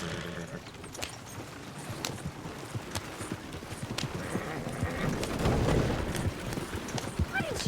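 Horse hooves clip-clopping in Red Dead Redemption 2, a steady walking beat on a dirt path heard under outdoor ambience, with faint voices in the background.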